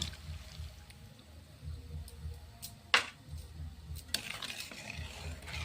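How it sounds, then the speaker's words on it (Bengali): Boiled milk mixed with custard powder and powdered milk is stirred in a pan, a soft, continuous scraping swish close by with a couple of sharper utensil clicks against the pan. "ভালো করে নাড়াতে থাকবো এটাকে ভালো করে এরকমভাবে নাড়িয়ে নিতে হবে"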